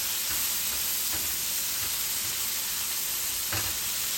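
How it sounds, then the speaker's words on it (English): Mushrooms sauté in a hot pan, giving a loud continuous sizzle and hiss, with a few soft stirring scrapes breaking through now and then. "You saute until it's soft."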